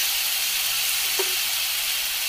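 Crushed ginger and garlic sizzle in hot oil as a loud, steady, broadband hiss that runs unbroken throughout, close by, with one faint brief clink partway through and no voices.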